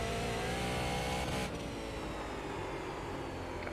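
A super late model race car in the iRacing video game, its engine droning steadily and then easing in pitch, a continuous mid-level roar with no voices.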